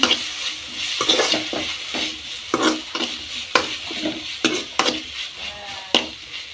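Green beans and potatoes with salt and turmeric being stirred in a hot pan, with a soft sizzle under irregular, close scraping strokes of a spoon against the metal, some sharper clinks among them.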